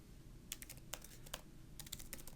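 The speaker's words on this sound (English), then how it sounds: "I can choose add action, start typing." Typing on a computer keyboard while entering code in a form-building application, quick irregular bursts of faint clicking keystrokes over a quiet room hiss.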